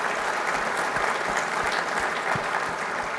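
A keynote audience applauds at a corporate fleet-safety conference, steady dense clapping filling the hall for the whole stretch with no voices over it.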